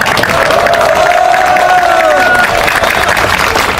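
A large crowd applauds steadily and loudly at an outdoor political rally and prayer vigil in Jeonju, a dense continuous roar of clapping with a few tonal voices and cheers rising through it.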